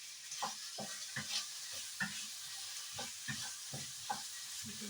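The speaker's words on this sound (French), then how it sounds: "Maintenant je mélange le tout." Meat with garlic and onions is stirred in a hot pan, a steady sizzle underneath a regular series of scraping utensil strokes, close and without talk.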